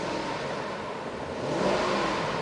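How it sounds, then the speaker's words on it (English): A 2008 Nissan Armada LE's 5.6 liter V8 revs up in a steady engine roar that swells slightly near the end, close and continuous with no speech. "Keep an eye on the left-hand dial. I'm going to rev it."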